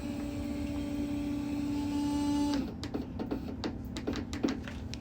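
A Vevor 53-inch vinyl plotter set up for cutting tint film runs its mechanism, a steady whining motor tone that stops and gives way to a series of short ticking and clicking movements, close by.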